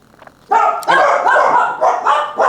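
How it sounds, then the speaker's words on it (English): Dogs bark loudly and close in a rapid run of sharp, repeated barks, several in a row with brief gaps, filling the moment without any speech. "The dogs are on edge because Matt's not home."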